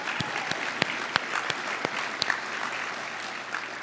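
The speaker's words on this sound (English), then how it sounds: "let's give Bobby a round of applause" An audience at a charity banquet for a rescue mission applauds steadily, a dense wash of clapping with a few sharper individual claps standing out, moderately loud throughout.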